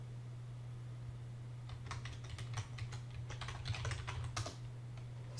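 Fast typing on a computer keyboard, a burst of quick clicking keystrokes lasting several seconds over a steady low electrical hum, close by with no voices.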